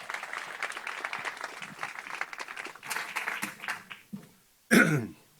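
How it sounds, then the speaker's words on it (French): Audience applause in a French talk venue as a guest speaker joins the stage: a few seconds of crowd clapping that thins out, followed by a couple of isolated coughs or throat-clearing sounds. "Je vais l'inviter à nous rejoindre sur scène sous vos applaudissements."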